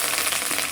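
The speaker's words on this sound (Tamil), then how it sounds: "இது வந்து தாளிப்பு பண்ணிகிட்ருக்கேன்" Curry leaves, mustard seeds, chillies and asafoetida crackle and sizzle in hot oil during tempering, a dense, loud, continuous hiss heard close up with no pauses.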